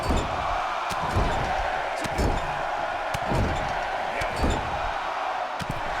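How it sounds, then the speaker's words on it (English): A WWE 2K22 video game arena crowd chanting a count along with repeated punches in a wrestling match, loud roaring audience with rhythmic heavy thuds landing about once a second. "Crowd counting along."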